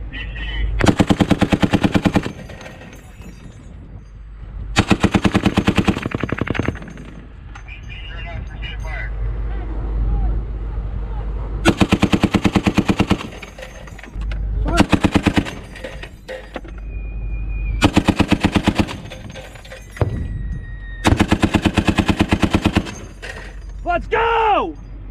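US Marines fire heavy live machine guns during an exercise: loud, rapid automatic bursts of several seconds each repeat across the clip, with shouted voices and quieter gaps between bursts.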